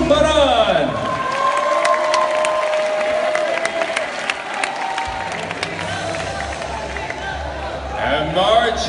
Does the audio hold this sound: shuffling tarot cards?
no